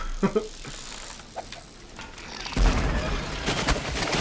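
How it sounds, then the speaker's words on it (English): Grenade detonating on a rat swarm in Dishonored, a sharp low boom followed by a burst of broadband rumble and debris, preceded by a few faint clicks and knocks. "I want to see if I can actually kill a swarm with a grenade."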